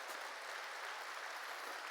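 Church congregation clapping during a New Year's Eve service sermon, a faint, steady, even patter of many hands, distant and alone without talk.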